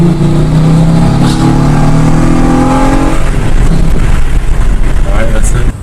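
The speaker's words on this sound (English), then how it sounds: "I'm going to see like an acceleration so you can hear what it sounds like" Car fitted with a BCP cold air intake accelerates hard, its engine note climbing loud and close through the revs before dropping into rougher, broadband road and wind roar.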